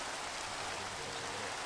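Steady rain falling in the video game Minecraft, a dense, even hiss of drops that holds at the same level throughout with no gaps or talk.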